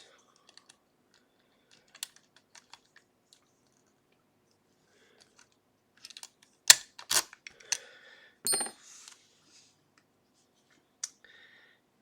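Lock picking on an Abus 76/40 padlock clamped in a vise: sparse, faint metallic clicks and scrapes, with a brief cluster of sharper taps and rattles in the middle, then quiet again.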